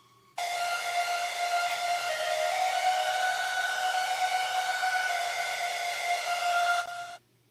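A sustained synth lead from a collaboration holds one bright, buzzy note with rich stacked harmonics for about six and a half seconds, starting abruptly and cutting off cleanly.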